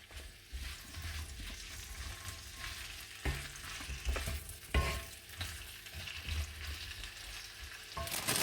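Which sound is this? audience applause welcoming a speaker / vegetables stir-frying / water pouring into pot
vegetables stir-frying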